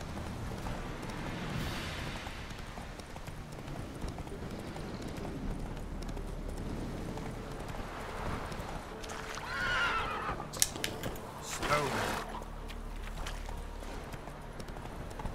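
Roach the horse gallops in The Witcher 3: Wild Hunt, with rhythmic hoofbeats over steady ambience and a loud neigh breaking out near the end.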